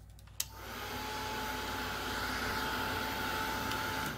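A heat tool drying dye ink on paper, giving a steady close whir and blowing hiss that runs for several seconds between a click at the start and one at the end.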